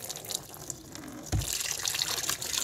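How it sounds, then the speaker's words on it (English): Water sprays forcefully from a hole in a kitchen sink plug during drain unclogging with a pressure washer sewer jetter, a hissing gush that surges abruptly louder partway through. "there's a hole in the plug and it's shooting water out"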